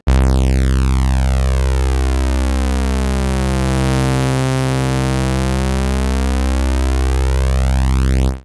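A loud, sustained synth tone with rich harmonics sweeping smoothly upward and back, steady in volume throughout, with no voices.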